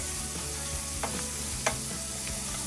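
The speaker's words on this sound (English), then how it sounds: "I'm just gonna saute this for a few seconds, just like so." Two tablespoons of fresh garlic sauteing in a pot for a Vietnamese pork macaroni soup, a steady close sizzle with occasional utensil taps and scrapes against the pot.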